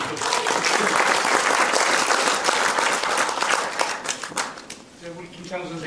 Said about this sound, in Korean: 다 같이 박수 좀 부탁드립니다.